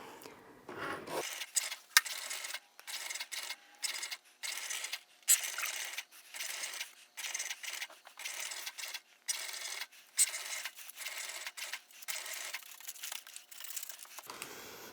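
A Cricut machine cutting vinyl, heard as rhythmic bursts of scratchy, crinkly friction alternating with brief pauses, fairly close and steady, with no talking.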